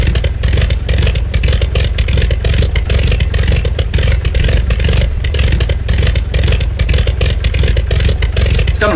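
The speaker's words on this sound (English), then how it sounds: "So let me go on and start it up for us" Avia BH-5 biplane engine in a flight simulator game, a loud, steady, rough mechanical roar with rapid clattering pulses that continues evenly throughout without talk.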